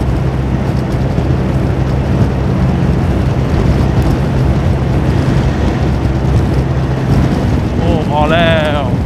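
A Honda Forza 350 scooter at full throttle on the road, a loud sustained engine drone buried in heavy rushing wind noise, with someone speaking over it near the end.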